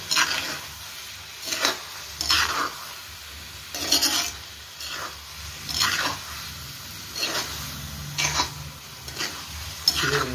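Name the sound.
chicken dry masala frying and being stirred in a pan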